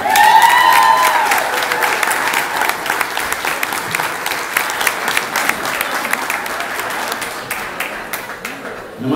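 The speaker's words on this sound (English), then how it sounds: "Please rev up a round of applause for Beth Lynn" A crowd at a Celebrity Waiters charity dinner applauds for a waitress named Beth Lynn, sustained clapping with scattered cheers that thins gradually toward the end.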